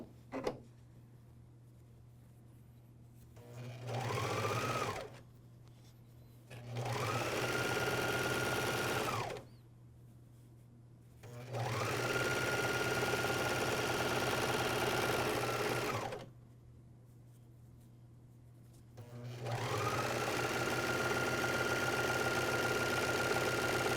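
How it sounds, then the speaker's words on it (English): Bursts from a MyLock 454D serger stitching a seam through pajama fabric, four separate runs of fast mechanical whirring that start and stop between quiet pauses, close and clear with a constant low hum underneath. "I'm going to line it up on the 5/8 inch and sew straight down"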